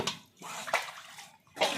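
Water is poured from a glass into homemade washing powder in three short splashing pours with quiet gaps between them, close by.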